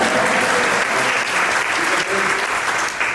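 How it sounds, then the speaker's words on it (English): A conference crowd of Quilts of Valor members applauds their 300th event milestone, loud, close, continuous clapping from many people that stays full and even throughout. "I'll give ourselves another round of applause"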